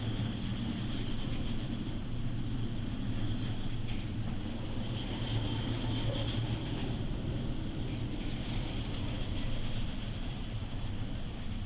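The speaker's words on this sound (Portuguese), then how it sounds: "eu trouxe um vídeo para os irmãos olharem mais ou menos como é uma tempestade em alto mar" A storm at sea, heard as a steady, unbroken roar of wind and churning water, loud and constant throughout with no voices.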